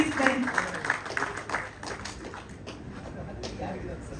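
Applause from an audience at a film song launch event for Rudrabhishekam, honouring actor Vijay Raghavendra, with a burst of clapping over the first seconds that thins out, a voice talking over it.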